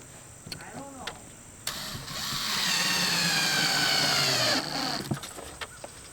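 A power drill runs in one sustained whine lasting a couple of seconds while screws are driven into a window frame during mobile home rot repair, with short clicks and knocks before and after and people talking nearby.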